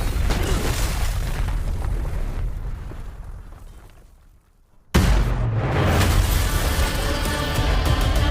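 A deep, booming rocket explosion from a Black Adam superhero movie scene, loud and rumbling, fading into a brief hush before a second heavy blast of sustained roaring debris noise.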